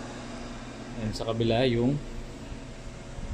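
A 4-inch fan blower on a homemade cacao winnowing machine gives a steady airy hum in the background while someone speaks briefly over it.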